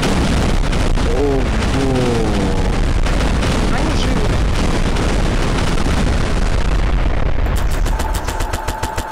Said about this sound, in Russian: Ого, меня взрывом откинуло.